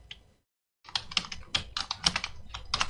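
Fingers tapping rapid, uneven keystrokes on a computer keyboard while entering HTML code, a brief pause near the start and then a dense run of crisp clicks, close-up and alone.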